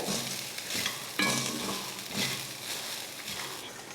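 Cooked pepper rice is stirred in a kadai over a low flame, with soft repeated scraping strokes over a gentle background sizzle.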